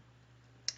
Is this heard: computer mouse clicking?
yes